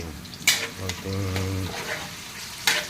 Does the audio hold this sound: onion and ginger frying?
yes